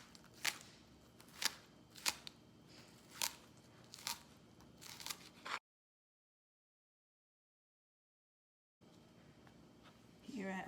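Scallions being chopped for chicken feet soup, a run of sharp, crisp knife crunches through the first half, then a gap of silence before a few more cuts return near the end.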